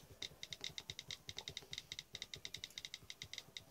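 Rapid, crisp tapping clicks from the on-screen keyboard of an iPhone 5 running iOS 8.4 beta, dozens of quick, evenly paced key taps heard up close and quiet.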